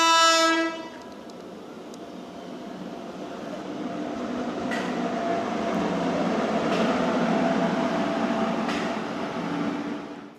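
A train sounds a brief horn blast, then rolls past a railway level crossing near station platforms, its rumble and rattling wheels swelling into a loud, steady roar that continues to the end.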